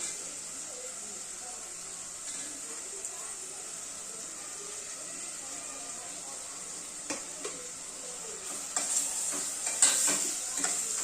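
Onion and finely chopped tomatoes sautéing in a pan for misal, giving a steady soft sizzle with occasional spoon scrapes and clinks that grow busier toward the end.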